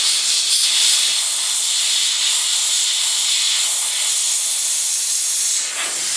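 A hot air plastic welder hisses steadily and loudly for the whole stretch as it repairs a cracked plastic round-headlight grille on an Isuzu Trooper, the broad airy rush barely wavering and with no voices.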